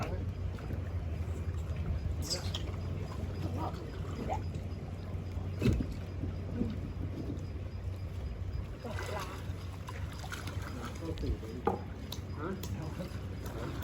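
A boat engine runs steadily at a low hum while the boat is launched from a rail trolley that has slipped off its track. Faint voices and scattered knocks sit over the continuous drone.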